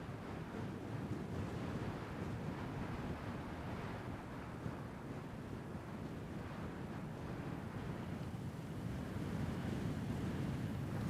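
Ocean waves and wind roll steadily along a Celtic coast in a constant, even roar with no distinct breaks.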